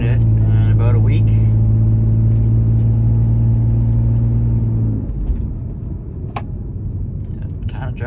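A car, apparently a Lexus, drives on the road, newly aligned after sitting for about a week; a steady close engine and road rumble with a sustained low hum that shifts midway into rougher tire-and-road noise.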